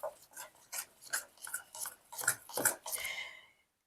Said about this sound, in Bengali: এবার পুরো ব্যাটারটাকে এইভাবে নাড়িয়ে নেব।